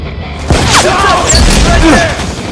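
Stun grenade detonating in an audio drama scene, a sharp bang followed by a loud crackling, ringing burst of dramatized effects lasting a couple of seconds.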